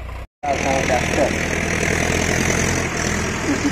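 A Sonalika RX-55 tractor engine idles with a loud, steady, close drone that cuts out briefly near the start and then runs on evenly.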